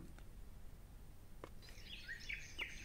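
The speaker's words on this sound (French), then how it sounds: "Les oiseaux, la nature. C'est très relaxant." Birdsong nature ambience played softly for relaxation, a few high chirps and short trills surfacing faintly over a low, quiet background hum, distant and delicate with no voices.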